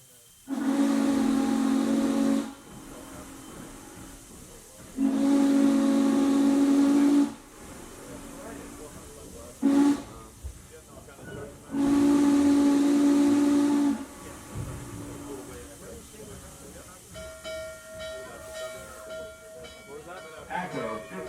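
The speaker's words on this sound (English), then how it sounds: "hear the whistle from the ghost of old locomotive number 6" The steam locomotive whistle sounds in three long, loud, steady blasts with a short toot between them, each echoing off into hissing steam, and a fainter higher tone lingers at the end.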